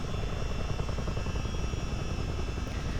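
A Chinook CH-47 tandem-rotor helicopter lifting off in a flight simulator gives a loud, continuous engine drone with fast rotor chop throughout, and no one speaks over it.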